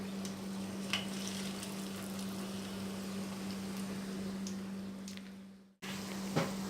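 Pakoras frying in oil in a kadhai over a medium flame, giving a steady close sizzle and bubbling with a constant low hum, a few small clicks, and a brief dropout near the end.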